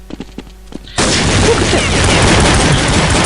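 Sustained automatic gunfire in the Counter-Strike video game that starts abruptly after a few brief shots and keeps going as a loud, dense, continuous burst.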